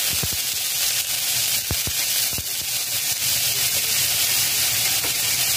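Ginger, garlic and onion paste hits hot white oil in a pan, giving a steady close-up sizzle with a few sharp pops and crackles scattered through.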